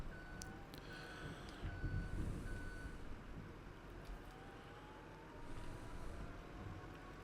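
Truck reversing beeps repeat steadily over a continuous engine rumble while a trailer is backed into a barn in Farming Simulator 25, with no talk.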